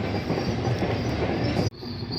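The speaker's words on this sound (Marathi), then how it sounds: "ही फेनिक्युलर स्टॉपपासून ट्रेन अशी चालते पुढे." A funicular trolley train at Malanggad fort rumbles along its track, a steady loud rolling roar with rail noise that cuts off abruptly near the end.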